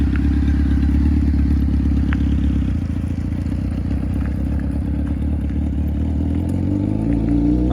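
A Honda CBR F4i 600cc sport motorcycle engine runs loud and close, a steady low throbbing drone that shifts slightly in pitch, with a faint clatter over it.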